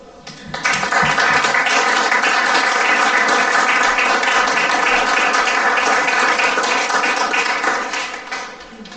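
An audience applauds after a poetry reading, sustained clapping that swells quickly, holds steady for several seconds, then tapers off, filling the room evenly.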